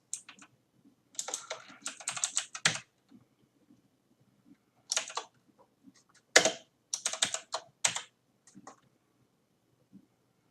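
Code being typed on a computer keyboard while building a Salesforce page, close, crisp key clicks in quick bursts separated by short pauses and a few isolated taps, with no talking.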